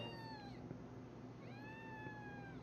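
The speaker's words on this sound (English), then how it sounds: "That is a loud cat." Inside the farming video game Cattle & Crops, a cat meows twice, loud and close, with two drawn-out rising-then-falling calls separated by a short pause over a low steady background hum.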